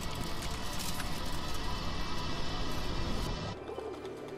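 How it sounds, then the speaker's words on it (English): Birds coo in a Witcher 3 game scene, soft repeated calls sitting within a dense, steady ambient wash that drops away abruptly near the end. "Damn birds."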